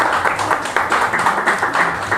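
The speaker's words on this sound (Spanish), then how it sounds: "hay aplausos" Short burst of audience applause following a poetry reading, dense close clapping filling the whole moment with no voices over it.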